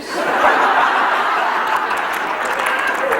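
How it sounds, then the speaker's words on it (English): Steady crowd applause at a political speech in Denver, a dense wash of clapping mixed with audience laughter that holds loud and continuous throughout. "Now, don't applaud too loudly."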